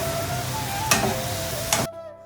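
Onions sautéing in a pan for biryani make a steady broadband sizzle, with two short scraping stirs, before the sound cuts off abruptly near the end.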